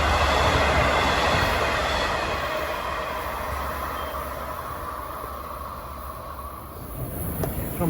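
Long Island Rail Road train 123, running from Babylon to New York, rumbles steadily past at rush hour in Forest Hills, a loud continuous roar of wheels and cars with faint squeals and no talk.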